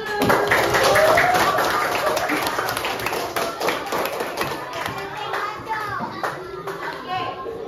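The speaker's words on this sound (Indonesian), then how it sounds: "Oke, tepuk tangan dulu." A group of children in a classroom clap their hands together in a dense burst of applause, loud at first and then tapering off, with children's voices mixed through it.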